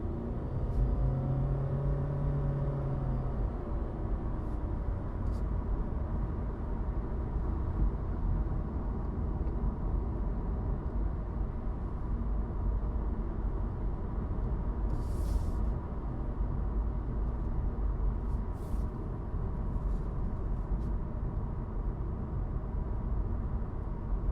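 2019 Honda Insight sedan with 150-plus horsepower, heard from inside while driving: a steady low rumble of tire and road noise with a faint whirring hum, broken by a couple of brief clicks and ticks.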